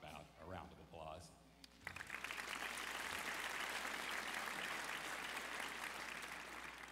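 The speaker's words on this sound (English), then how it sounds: "a round of applause" At the 2016 Drexel Law graduation ceremony, a voice speaks briefly before a large audience breaks into sustained, full applause that fills the hall for about five seconds.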